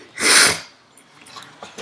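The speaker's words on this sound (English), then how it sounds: "so sorry about the sniffles" A single loud, wet nasal burst like a sniffle or sneeze, followed by quieter breathy rustles and a short sniff near the end.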